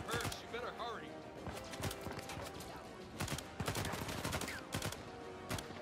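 Gunfire in the Uncharted 4 video game comes as irregular bursts of sharp shots and rapid volleys, with horse hooves clopping beneath and game voices speaking now and then.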